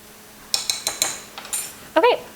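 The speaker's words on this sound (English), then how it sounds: "I'm just gonna give this a little bit of a stir and try and break up these brown sugar clumps that I have in here" A spoon clinks against a bowl while stirring a brown sugar mixture to break up clumps, a few sharp close taps and scrapes over a short stretch, with a brief voice-like sound near the end.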